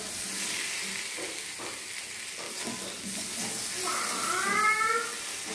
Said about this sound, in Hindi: ये फ्राई किया हुआ अरबी भी डाल देंगे। मिक्स करके मसालों के साथ अरबी को 2 मिनट भूनेंगे।